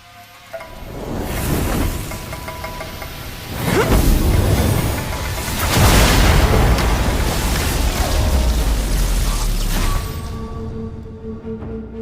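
A fiery martial-arts technique in a wuxia drama sounds as a series of loud roaring whooshes and rumbling booms, swelling in waves and sustained before fading to a low tonal hum, with no voices.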